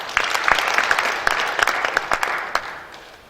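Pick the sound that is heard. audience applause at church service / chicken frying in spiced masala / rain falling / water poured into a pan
audience applause at church service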